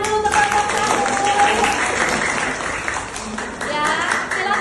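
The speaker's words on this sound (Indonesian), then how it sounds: "Tepuk tangan dulu untuk kelompok 1." Classroom applause for the first student group, a sustained burst of many hands clapping at close range with children's voices chattering over it.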